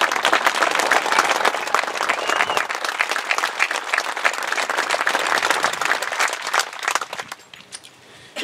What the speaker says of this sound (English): Let's clap for all of them really loud